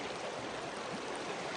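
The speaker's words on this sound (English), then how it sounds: "I think we're going to cross the creek here." Glacier-fed creek water rushes steadily in the Alaskan backcountry, a dense, even hiss of flowing water filling the whole short moment with no pauses and no voices.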